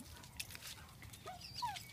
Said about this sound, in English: now he's barking because he wants the toys